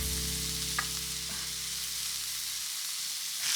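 Steak frying in a pan for Portuguese prego rolls, giving a steady close sizzle with a low hum beneath, a couple of soft clicks partway through, and the sizzle dropping off near the end.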